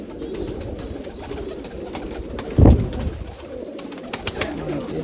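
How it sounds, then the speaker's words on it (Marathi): Racing pigeons coo softly nearby, one deeper throaty coo rising above a steady background murmur of birds and faint rustling. "हे बघा मित्रांनो कबूतर कसं आहे."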